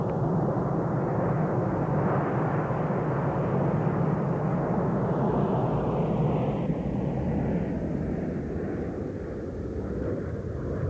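Red Arrows jet aircraft flying in formation pull up and roll, a loud, steady roar of jet engines that fills the whole stretch without a break, shifting tone slightly as they climb, with no voices.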